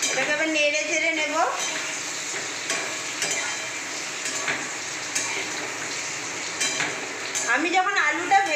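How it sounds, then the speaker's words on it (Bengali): Fried potatoes are stirred in hot oil with mustard and cumin, giving a sizzling hiss with scraping of a utensil against the pan, while a person talks at the start and end. "এটাকে আবার নেড়ে চেড়ে নেব।"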